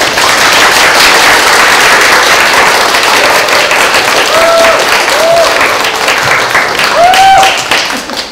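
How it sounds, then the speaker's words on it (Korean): Audience applause for two comic authors at a Bucheon comics award event, a loud, dense burst of clapping from a crowd that holds steady and then tapers off, with faint whistle-like tones mixed in. "열심히 독자분들을 위해서 작품을 만들고 계시는 두 작가님들에게 큰 박수 부탁드립니다."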